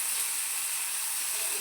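Water hits a hot cooking pan of fish and plantain, letting out a loud, continuous steamy hiss and sizzle for the whole short moment.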